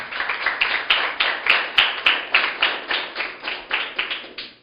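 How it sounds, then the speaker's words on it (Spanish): A congregation at a sermon claps for the Lord in a steady, rhythmic beat, sharp unison claps repeating roughly five times a second, close and loud with no talking over it. "Aplaudas al Señor, aplauda al Señor."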